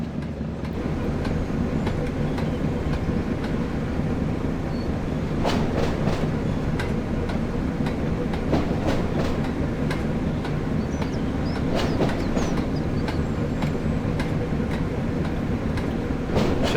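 Train of recycled box wagons rolling along a simulated West Coast Main Line between Preston and Carlisle behind a Class 08 shunter, with steady rumble and repeated clickety-clack of wheels over rail joints throughout, loud and continuous.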